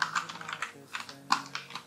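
Keystrokes on a computer keyboard typing a command into a Windows command prompt, a quick irregular run of close, crisp clicks in small bursts, with no talking.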